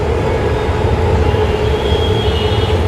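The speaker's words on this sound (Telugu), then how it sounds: "మళ్ళీ అక్కడి నుంచి ఇంకొక మెట్రో వస్తుంది" A Hyderabad metro train runs past near the Uppal sky walk, its loud, steady rumble and rail hiss filling the whole stretch without letup and with no voices.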